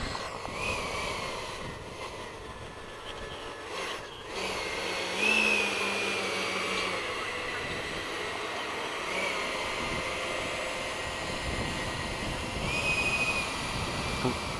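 Freewing 80mm F-5 RC model jet flying at a field, its ducted-fan whine steady and fairly distant, rising and falling slightly as it passes, with no talk.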